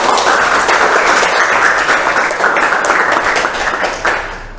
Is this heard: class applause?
yes